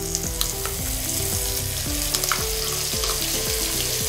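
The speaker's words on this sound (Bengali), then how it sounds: "এবারে যে পেঁয়াজ রসুন টমেটো আর কাঁচা লঙ্কার পেস্ট করেছিলাম ওইটা দিয়ে" A paste of onion, garlic, tomato and green chili hits hot oil, frying with a loud continuous sizzle and crackle while a spoon stirs and scrapes the pan close by.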